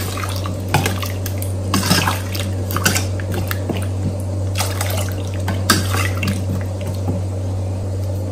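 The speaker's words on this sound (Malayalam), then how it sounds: "ആവശ്യത്തിന് വെള്ളം ഒഴിച്ചു കൊടുക്കാം" Water is poured into a cooking pot for Kerala-style sambar, a soft steady splashing and trickling with occasional clinks of the pot over a constant low hum, no one speaking.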